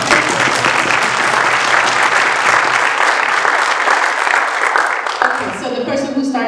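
Loud, dense applause from an audience at a college alumni keynote event, sustained steadily for several seconds before thinning out near the end.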